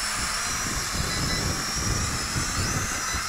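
A Hubsan 502E GPS drone hovering in wind outdoors, a constant, fairly loud whirring buzz of small propellers with wind noise, steady for a few seconds and no speech.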